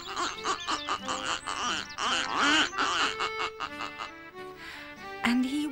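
Ducks quacking on a farm, a lively run of repeated nasal quacks overlapping each other, close and loud, with brief pauses and a few higher squawks toward the end.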